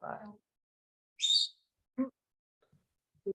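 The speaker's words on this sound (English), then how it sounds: "it's my parrot, sorry" A pet parrot gives a short, clear whistle once, then a few faint chirps and clicks in otherwise quiet room surroundings.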